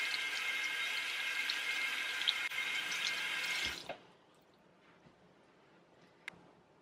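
Tap water runs steadily over a hand while a makeup brush is rinsed in circular motions, a loud, even splashing that cuts off abruptly midway, leaving a few faint drips and clicks.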